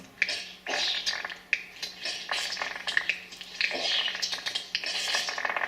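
Continuous busy mix of indie video game clattering, whooshing and sputtering effects during gameplay with a steady low hum underneath, repeated bursts every second or so, no speech.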